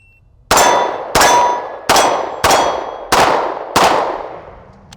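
A Walther PDP-F handgun fitted with a Holosun 507 sight sends shots into steel targets. Six loud metallic clangs come at a steady pace about two-thirds of a second apart, each ringing out and fading before the next.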